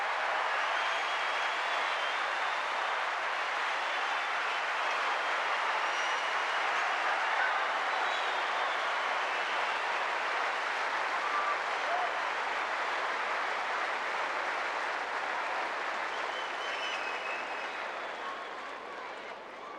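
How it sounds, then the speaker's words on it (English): A large crowd at the 1988 Australian Open tennis semifinal applauds steadily after a set ends, a dense sustained roar of clapping that continues for many seconds before easing slightly at the end. "People standing and applauding, waving flags."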